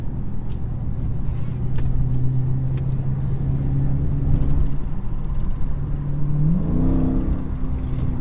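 2023 Dodge Scat Pack Charger engine in track mode driving in traffic, a steady low rumbling drone with broad road noise that climbs in pitch near the end as it revs up.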